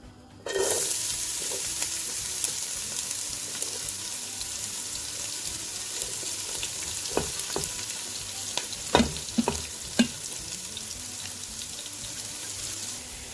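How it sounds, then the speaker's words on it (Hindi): Chopped onions fry in hot oil in a pan for a home-cooked chicken handi, giving a steady close sizzle with occasional clinks and stirring knocks. "इसमें गर्म हो जाएगा, मैं इसमें शामिल करूंगी प्याज"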